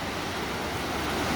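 A river rushes in a continuous broadband wash, steady and close, with some wind across the microphone on a forest walk.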